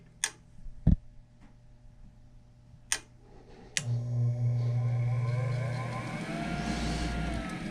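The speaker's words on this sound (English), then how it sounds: "See what the inducer sounds like now." A furnace inducer motor starts after a few sharp clicks and ticks. It settles into a steady, close hum and whir that builds slightly louder as it runs.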